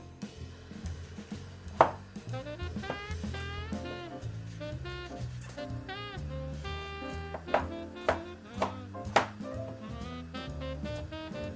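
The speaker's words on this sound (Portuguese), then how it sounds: "Vamos cortar em cubos, pôr em sal e vai ao forno num tabuleiro." A knife chops potatoes into cubes on a board in a home kitchen, with a run of sharp, uneven taps and a few louder strikes over soft background music.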